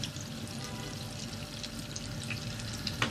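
Red chili flakes sizzle in melted butter in a pan, a soft continuous crackling hiss at low level with no talking.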